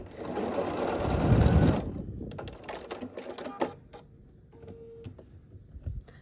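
A sewing machine pieces tiny scrappy quilt block bits, its needle running in a fast, loud mechanical whir for a couple of seconds before stopping, followed by quieter handling, rustles and clicks of fabric nearby.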